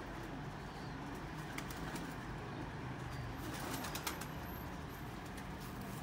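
Ferozpuri pigeons coo softly in repeated low murmurs, faint against a constant broad outdoor hiss, without any talking.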